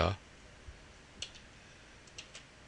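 Sparse, faint clicks from typing letters on a computer keyboard set to a Devanagari layout, a few isolated taps scattered over a quiet background after a brief louder sound at the start.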